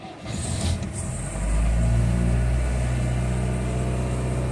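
A Citroen DS21 engine catches from a cold start with the choke pulled: a short cranking rise, then a loud, steady idle that holds close and even to the end, with no voices.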